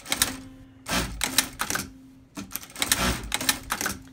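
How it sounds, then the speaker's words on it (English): A CT-8700 sewing machine runs short stitch patterns in quick clattering bursts, each running a moment before stopping automatically, with brief pauses between the rapid, close tapping runs. "I only select the foot pedal 1 time, the machine will go and will automatically stop"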